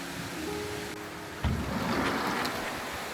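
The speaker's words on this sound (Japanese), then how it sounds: "川の流れる音が少し、" A river flows in the dark beside an open-air hot spring bath at a Kurokawa Onsen inn in the Aso area of Kumamoto, making a steady, moderate rushing wash with one soft low thump partway through and no talk.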